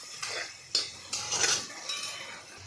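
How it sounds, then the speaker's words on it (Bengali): A spoon stirs masala spices in a pan with radish and potato fried in turmeric and salt, giving a few distinct scraping, clinking strokes against the metal over a quiet background. "আর মশলাটা এখন ভাজবো।"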